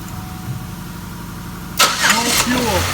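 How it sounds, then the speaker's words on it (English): A car with no fuel pressure and an empty tank cranks as the starter tries to turn it over. Low background hum gives way to a loud, sudden burst of cranking that churns on without catching, while people talk nearby. "No fuel pressure. The car is attempting to start."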